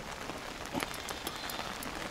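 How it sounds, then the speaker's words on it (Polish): Steady rain patters on an umbrella during a rainy fishing session, a dense continuous hiss of drops with a few sharper taps, close by and without talk. "dobrze deszczyk pada"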